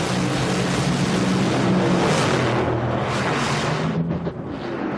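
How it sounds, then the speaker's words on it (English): A top fuel dragster at the 2006 IHRA Rocky Mountain Nationals roars loud and steady down the drag strip, a dense broadband blast that dips near the end as the car loses power. "It sounds like Dale Creasy's car gave up at the end"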